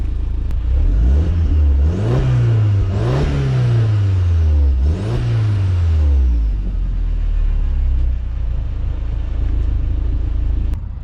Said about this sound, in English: you guys can hear, this is just a stock exhaust with a 225 horsepower.